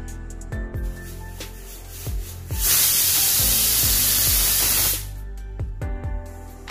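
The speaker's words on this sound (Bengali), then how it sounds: "আমি এবার মোটামুটি 7টা সিটি দিয়ে নেব।" A pressure cooker cooking eggs with chopped ginger and garlic lets out one loud, steady hissing steam whistle lasting about two seconds, close by, with quieter kitchen sounds before and after.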